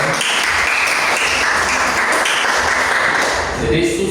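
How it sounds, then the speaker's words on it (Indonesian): A school class applauds on a teacher's cue, a loud continuous roar of clapping hands filling the room, with a voice talking over it. "Oke, berikan tepuk tangan."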